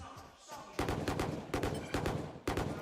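Valorant gunfire during an esports grand final, several separate bursts of rapid shots that hit hard and ring out over a blurred background mix.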